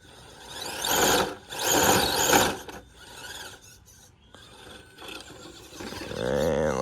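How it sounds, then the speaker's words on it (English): A V1 Micro Mamba motor system in an Element Enduro RC crawler with LCG skid gives off a varying mechanical whine, swelling in several loud bursts then easing off, close by with no talking. "V1 Micro Mamba, it seems like it's got a little bit more of a whine."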